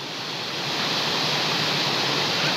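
A big waterfall in the Mourne Mountains roars as a steady, dense rush of falling water that swells slightly and then holds loud and constant.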